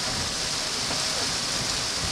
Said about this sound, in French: Il pleut, il pleut, il pleut, il pleut comme c'est pas permis.